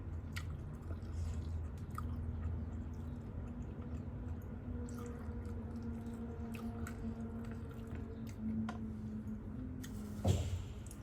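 Instant noodles being eaten close up, with soft wet chewing and slurping squishes and small ticks over a steady low room hum, plus one louder knock near the end.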